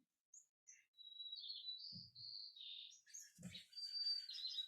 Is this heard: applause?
no